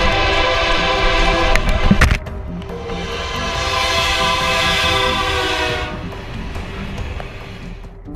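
A train roars past at close range with its horn blaring, a loud continuous rumble and wail that shifts abruptly about two seconds in, with no voices.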